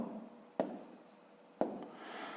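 A pen writes numbers by hand on paper in quiet, close scratching strokes, with two sharper taps a second apart.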